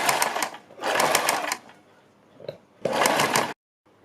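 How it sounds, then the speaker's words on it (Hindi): Sewing machine stitching a fabric strip onto a kurti neckline, running in three steady whirring bursts with a faint click in the gap between them, close and loud, with no talking. "इसके ऊपर इसी निशान के ऊपर रखते हुए सिलाई लगा लेंगे"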